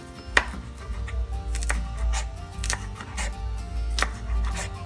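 A knife roughly chops spring onions on a board with irregular, close taps over a low background hum.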